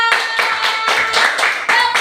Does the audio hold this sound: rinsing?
no